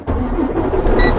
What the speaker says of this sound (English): You start the engine,